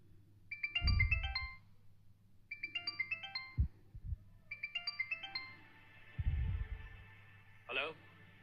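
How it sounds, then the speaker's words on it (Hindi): A phone ringtone plays in three repeated bursts of bright electronic tones, with low thumping sounds and voices in between. "आपने किसी रॉन्ग नंबर पे फोन किया है।"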